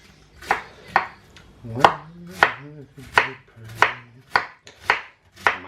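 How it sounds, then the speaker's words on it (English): A knife thinly slices apple for slaw on a cutting board, about ten crisp, evenly spaced cuts landing close and loud, each with a short woody knock. "we're just literally thinly slicing it"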